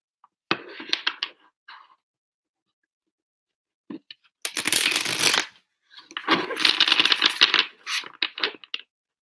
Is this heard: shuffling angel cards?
yes